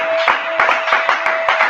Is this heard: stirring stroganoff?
no